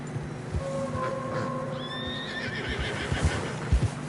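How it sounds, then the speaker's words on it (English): Horses in a snowy mountain pass in Red Dead Redemption 2 give a long, drawn-out whinny and a higher rising neigh, while hooves clop unevenly beneath and grow louder toward the end. "Horses are getting tired."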